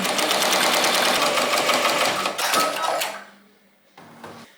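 A Ricoma MT1501 embroidery machine stitches in a loud, rapid, clattering run for about three seconds, then stops, leaving faint mechanical clicks and a low hum.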